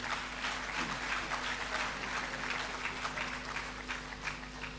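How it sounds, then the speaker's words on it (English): Ceremony audience at a programme matriculation giving a round of applause, a steady wash of many distant hands clapping under a hum, fairly faint and continuous throughout. "A better round of applause for him once again, ladies and gentlemen"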